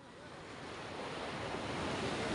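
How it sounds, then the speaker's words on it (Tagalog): Ocean waves break on a shore with a steady, broad rushing surf that slowly swells louder, mixed with wind buffeting the microphone and no talk. "Medyo lumaki po ang tubig. Medyo lumaki ang alon, kaya umabot dito."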